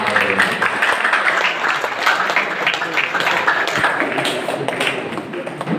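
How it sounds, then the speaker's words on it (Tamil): Students clap at a college blood donation camp event, a continuous, moderately loud patter of many hands with some heavier taps and thumps mixed in, sustained throughout without pause. "அவர்களுக்கெல்லாம் இங்கே இருக்கக்கூடிய மாணவர்கள் கைத்தட்டி"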